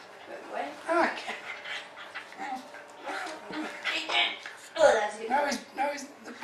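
A playful puppy nibbling at a person, panting, snuffling and letting out small whimpers close by in short bursts, while people talk over it.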